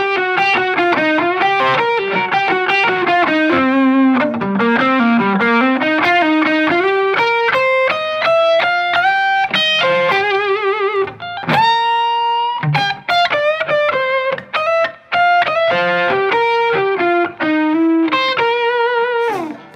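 Distorted electric guitar plays a blues lick, a run of sustained single notes and bends moving through several positions, loud and clean-cut with short pauses between phrases and no voice.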